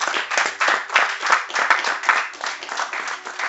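A church congregation at a Sunday service claps together in a steady, rhythmic beat, hands applauding in regular pulses without speech.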